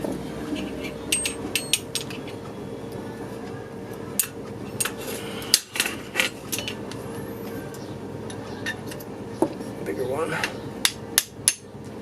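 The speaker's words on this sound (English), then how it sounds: "Tap it all the way through until it pushes out the pin in the back." Repeated sharp metallic taps of a small hammer driving a pin through an AR-15 rifle's trigger housing, irregularly spaced, close up over a faint background hum.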